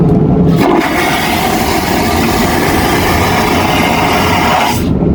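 An airplane vacuum toilet flushes with a loud, sudden whoosh that roars steadily for about four seconds, then cuts off abruptly over the cabin's engine hum.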